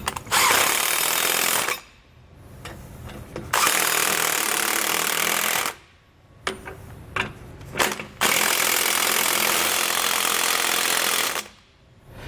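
Power tool rattling in long loud bursts while tightening U-bolt clamp nuts during a Roadmaster Reflex steering stabilizer install on a 2018 Entegra Coach Insignia motorhome, with brief pauses between runs.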